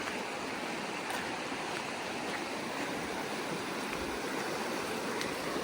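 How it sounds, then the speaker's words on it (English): A storm-swollen river rushes in a steady, dense roar, close and continuous throughout with no voices. "Yeah, the river definitely went up higher."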